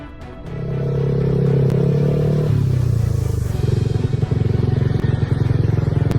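A motorcycle engine runs close and loud, holding a steady droning note and then dropping into a rougher, pulsing idle with faint clatter, with no voices.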